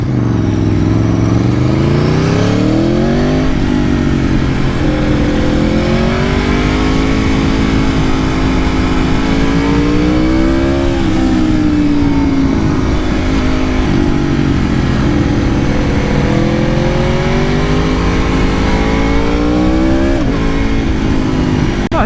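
A 2020 Aprilia Tuono V4 RR motorcycle revs hard on the road, its engine note rising and falling through repeated throttle sweeps, loud and close throughout.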